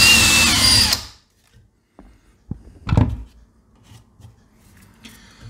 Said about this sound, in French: je vais percer pour passer les fils.